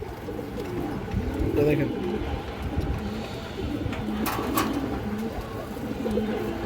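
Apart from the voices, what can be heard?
pigeons cooing at a pigeon market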